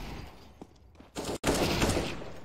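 Bursts of gunfire in a first-person shooter game, a muffled shot or two and then a loud, sustained volley filling the second half.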